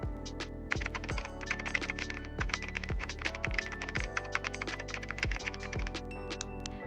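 Steady typing on a computer keyboard, close and clear, with rapid clicking keystrokes and heavier thumps, likely from the space bar, recurring at a regular pace throughout with no talking.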